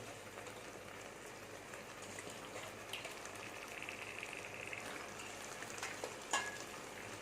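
Chicken pieces sizzle steadily in a pan with fried chili powder for a Tamil chicken kosthu, a soft, even crackling hiss heard close and fairly faint, with occasional stirring clicks and no talk.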